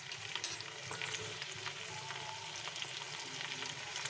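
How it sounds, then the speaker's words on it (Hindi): Garlic paste fries in a pan with already-browned meat for a chicken dish, giving a steady close sizzle with light stirring scrapes and no talking. "गोश्त मेरा भुना चुका है। इसमें हम डालेंगे लहसुन का पेस्ट"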